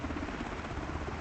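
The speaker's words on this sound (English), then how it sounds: "Ooh, helicopters right there." Helicopters heard as a faint, steady rotor thrum with a low rhythmic chop, distant and continuous, no voices.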